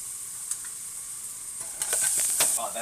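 Onions and garlic sizzle in butter in a pan over medium heat for an Alfredo sauce, a soft steady hiss with a few brief crackles and stirring scrapes building near the end.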